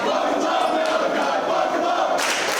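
A wrestling crowd at a Carolina indie event roars continuously with loud cheers and chanting, a dense sustained wall of voices that swells sharply near the end.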